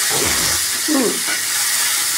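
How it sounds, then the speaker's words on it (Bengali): Pumpkin, beans, potato and sweet potato fry in a pan, giving a steady close sizzle and hiss with a brief scrape of stirring partway through. "এই সব দিয়ে দিচ্ছি। দিয়ে এটাকে বেশ মানে ভাজা করবো"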